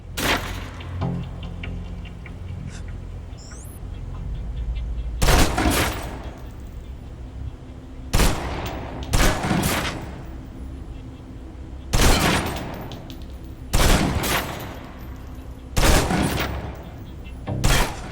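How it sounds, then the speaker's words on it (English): Submachine gun in the Alpha Protocol video game fired in repeated loud, sharp automatic bursts, roughly six spaced volleys over a low steady background hum. "Now let's empty the clip. Let you get a feel for the recoil."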